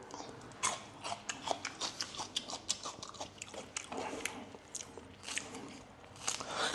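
Close, rhythmic crunching bites as someone chews raw vegetables cut for sweet and sour chicken, a steady run of crisp chews with a few louder crunches.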